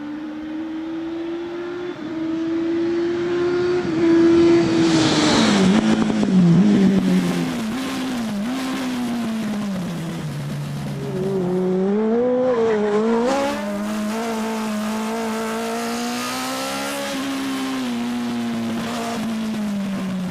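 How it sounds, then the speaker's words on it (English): A ZCars R1 race car with a tuned 165 bhp Yamaha R1 engine howls through high revs, with pitch swinging up and down across gear shifts and lifts, loud and close before easing to a steadier cruise. "Out back, you'll find a tuned Yamaha R1 engine developing an impressive 165 bhp"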